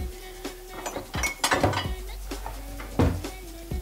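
A few clinks and knocks of a plate being handled on a hard surface while serving a mug cake, with short scrapes and taps spread irregularly.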